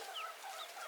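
Backyard hens make soft, faint clucking and chirping calls over a quiet outdoor hiss, a few brief high notes within a second.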